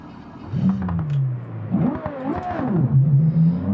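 In the BeamNG Drive driving game, a car engine stalls and restarts: low rumbling that sags and clatters, then revs back up and settles into a steady idle, heard without any talk.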